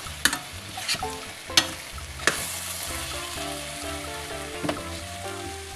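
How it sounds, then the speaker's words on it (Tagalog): Okra and bitter melon stir-frying in a pan, a constant close sizzle with a few sharp clinks of a spatula against the metal and occasional stirring strokes. "Malapit nang maluto itong ating stir fry okra at ampalaya."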